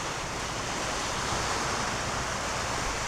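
Sea waves at a beach in Fabrica Lobo, Batangas wash in as a continuous broadband roar of surf, steady and fairly close, with no voices over it.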